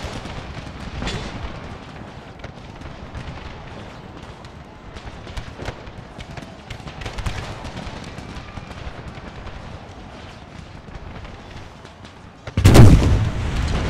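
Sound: artillery cannon fire in Empire: Total War mod video game

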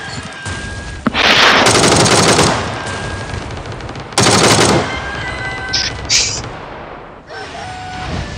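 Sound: gunfire from a gun in the video game PUBG

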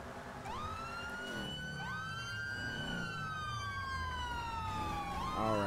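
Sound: police car siren from a video game

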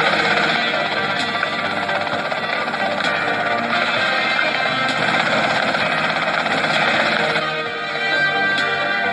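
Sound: helicopter in Grand Theft Auto Vice City video game

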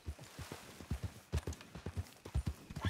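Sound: horse hooves clip-clopping in video game

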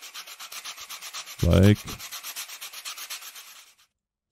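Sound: sanding wood in the video game Toy Tinker Simulator

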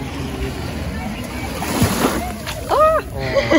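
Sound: sea water splashing at the beach in Alanya

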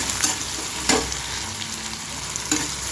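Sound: frying ginger, garlic, coriander and coconut paste in a pan

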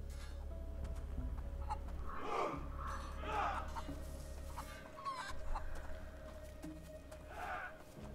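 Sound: chickens clucking in video game A Plague Tale: Innocence

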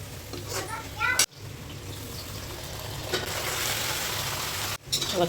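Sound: onion frying in a pan

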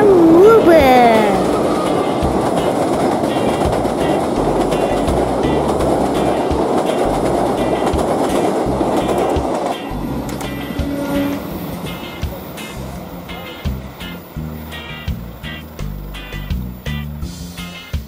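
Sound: Pasundan Lebaran train crossing Mbeling bridge over Progo river

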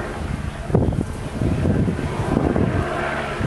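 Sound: wind

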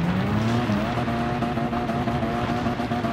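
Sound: car skidding on dirt in the video game Gran Turismo 7

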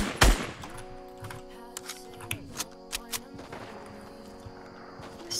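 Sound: gunfire in the video game Fortnite

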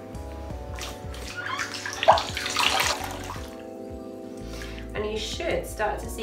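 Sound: water in a sink while rinsing off facial product

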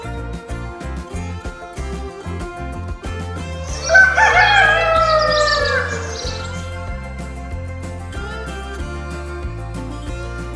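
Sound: rooster crowing in Minecraft video game mod

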